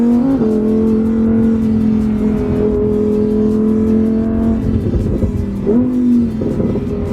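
Lamborghini Huracan Performante V10 engine revving hard and steadily with loud sustained tone, pitch dipping and climbing near the end with brief shifts, no talking.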